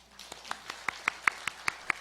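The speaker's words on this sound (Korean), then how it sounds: "누군지 모르지만 박수나 한번 쳐줍시다" A church congregation claps briefly during a Sunday sermon, a sparse run of about eight distinct claps, fairly faint and spaced unevenly, with no talking over them.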